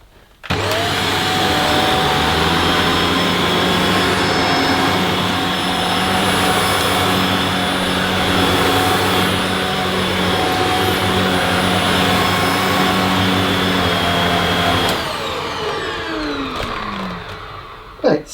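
A Shark Powered Lift Away upright vacuum cleaner with a suspected suction loss runs loud and continuous with a high whining motor tone, then switches off and winds down near the end.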